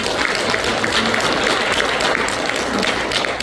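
A church congregation applauds together, with loud, close, steady clapping filling the space without pause.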